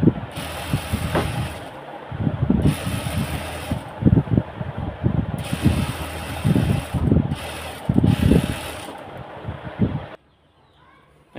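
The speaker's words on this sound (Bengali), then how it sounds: "এখন এটাতে একটা চাপ সেলাই দিয়ে দেব।" A sewing machine stitches a fabric sleeve in a home tailoring setting, whirring in loud bursts broken by short pauses, with motor hum and clattering needle throughout before dropping to near silence at the end.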